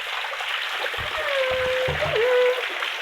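River water pouring out from underground at a gate, a steady close rush and splatter that fills the whole clip, with a thin whistling tone and faint low voice sounds partway through.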